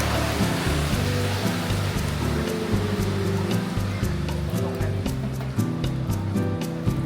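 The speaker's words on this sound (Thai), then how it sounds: "ฝนตกอีกแล้ว" Rain falls on a city street, a steady patter and hiss of drops under a low, droning background hum with occasional sharper taps.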